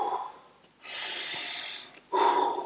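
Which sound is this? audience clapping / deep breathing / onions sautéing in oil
deep breathing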